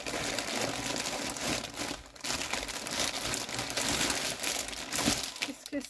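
Packaging crinkling and rustling nearby as a surprise craft parcel is unwrapped, a continuous faint crackle with small dips.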